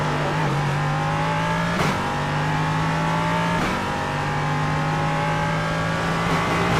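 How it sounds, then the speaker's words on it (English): Race car engine in the iRacing sim, loud and close, holding a steady high drone with sharp gear-shift breaks roughly every two seconds as revs climb again, no talking over it. "All you need to hear is this beautiful car."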